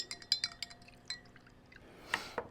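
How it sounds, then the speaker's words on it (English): A homemade hand sanitizer mixture is stirred in a glass container, with a run of small, light clinks and taps of the stirrer against the glass, then a couple of brighter rattling knocks at the end. "you just want to stir everything up to make sure that everything is combined together."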